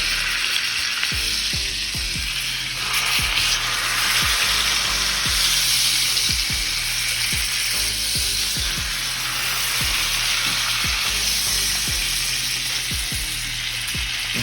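A ribeye steak sears on its edges in hot butter in a pan with a loud, continuous sizzle, punctuated by regular soft thumps and taps as it is held and turned; no one speaks.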